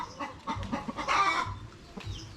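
Chickens on a farm clucking near and fairly loud, a series of short rhythmic clucks building into a longer squawk, then a brief call at the end.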